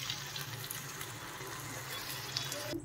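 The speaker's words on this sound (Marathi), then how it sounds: "त्यामध्ये थोडंसं पाणी टाकून घ्यायचं आहे।" Water pours steadily into a pan of drumstick curry, a soft, even, close rush of liquid running for a few seconds with nobody speaking.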